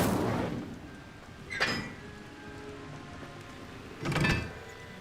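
Incendio fire spell cast in Hogwarts Legacy, two short whooshing bursts of flame a few seconds apart, moderately close, over a faint ambient hiss.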